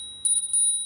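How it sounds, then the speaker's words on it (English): Bright metallic bell on a Rad Power e-bike rings three quick times in a clear, close sequence, then leaves a lingering ring in an otherwise quiet setting. "Came with a nice little bell"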